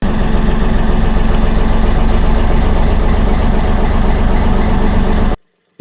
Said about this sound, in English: Like a happy little engine, really.